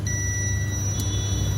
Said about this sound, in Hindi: अभी थोड़ा सा मेरा एक कैपेसिटर चार्ज है तो इसकी वजह से ये बीप दे रहा है।